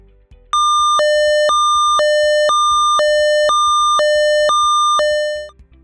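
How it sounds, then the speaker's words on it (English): A loud electronic all-clear alarm siren at an industrial plant alternates between two steady tones in a regular high-low pattern for about five seconds, then cuts off. "Once the danger has passed, or the operation has completed, the following signal will sound,"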